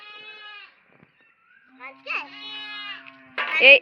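Goats bleat in short wavering calls, one at the start and a louder cluster near the end, close by in an outdoor setting, with a person talking briefly between them.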